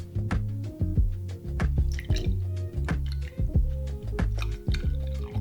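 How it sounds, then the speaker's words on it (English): Whole milk pours into a measuring jug in a close series of glugs and drips, wet splashy pulses repeating at an uneven rhythm, no talk. "you're going to top it up with whole milk."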